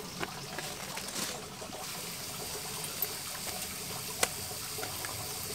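Water trickles steadily through a DIY rainwater filter of two connected tanks with a mosquito-net screen, making a soft, constant running sound with a few faint drips and splashes.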